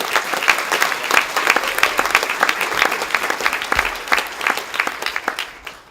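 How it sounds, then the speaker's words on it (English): Graduates and guests at a communication department commencement ceremony applaud, a close, lively burst of many hands with distinct claps, tapering off at the end. "give yourself a hands of applause, because you deserve it"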